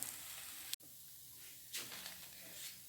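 Bottle gourd adai frying in a pan, a soft continuous sizzle and hiss with a brief gap and a couple of louder surges as oil spits, quiet and close.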